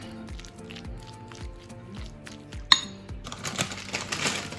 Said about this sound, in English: I have a little bit of cooked bacon and mushroom that was left over from another recipe. So I'm just stirring that in.